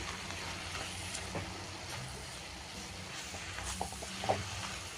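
Methi (fenugreek leaf) bhaji fries in a pan over a raised flame, a soft continuous sizzle with occasional quiet scrapes of stirring, fairly faint and without talk.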